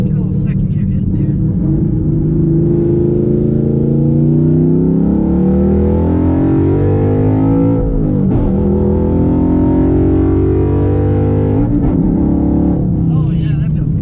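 Cammed Coyote V8 in a Mustang pulling hard in second gear, a loud, continuous, choppy engine roar that climbs in pitch and dips briefly between pulls.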